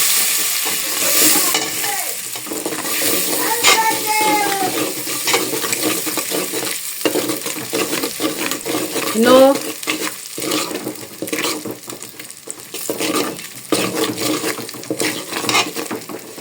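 Ogbono being stirred in a pot for okra soup, a steady scraping and clatter of a spoon against the metal with bursts of sizzle-like texture, fairly loud and close, continuing without pause.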